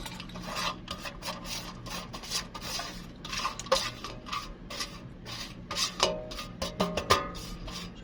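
Egg being mixed with chopped onion, chilli and coriander in a bowl, a continuous rapid scraping and clinking of a utensil against the bowl, close and fairly loud.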